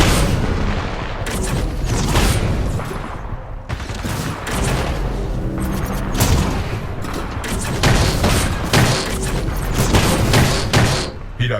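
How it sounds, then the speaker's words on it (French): The Vortex Shield in Titanfall 2 catches incoming enemy gunfire and missiles, making a dense barrage of booming impacts, thuds and rapid shots that stays loud and busy throughout. "Le bouclier Vortex intercepte les tirs et missiles ennemis."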